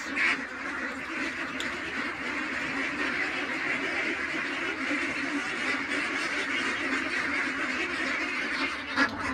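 A large flock of farm ducks quacks continuously, a dense overlapping chorus of calls close by, steady throughout with no voices.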